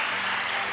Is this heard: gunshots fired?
no